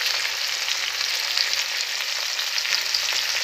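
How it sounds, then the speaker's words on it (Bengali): Flat beans sizzle steadily as they fry in a pan until reddish, a dense, even crackle that stays close and constant throughout with no voices. "আর এখানে আমার শিমটা কিন্তু লাল লাল করে ভাজা হয়ে গেছে।"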